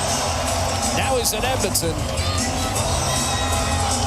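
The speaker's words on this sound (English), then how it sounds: "applause rains down on Ingram, Nugent Hopkins, and the Oilers in the aftermath of a decisive 5-0 win" Ice-hockey arena crowd in Edmonton roars and applauds steadily for the Oilers after a 5-0 NHL home win over the St. Louis Blues in Ryan Nugent-Hopkins' thousandth game, with a commentator talking over the dense, continuous noise.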